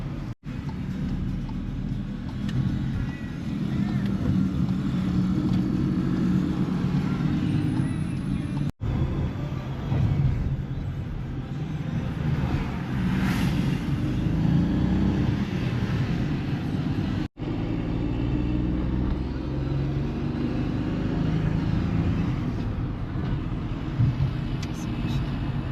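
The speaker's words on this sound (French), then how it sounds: "Et on a pris la voiture du coup tout à l'heure et maintenant on est sur les routes" Loud, continuous engine and road rumble of a car climbing mountain roads on Madeira, Portugal, heard from inside, steady throughout with two abrupt cuts.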